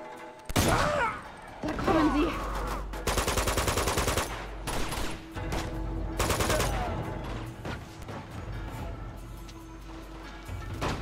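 Bursts of rapid gunfire from the video game Uncharted 2: Among Thieves, some in quick automatic volleys and some as single shots, loud and close, with faint voices underneath.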